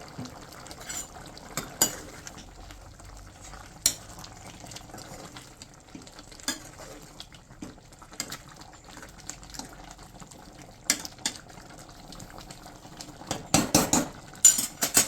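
A spoon stirs mutton masala with spices in a metal pot, making irregular scraping and clinking knocks against the sides, with a faint sizzle underneath and a quick cluster of clatters toward the end.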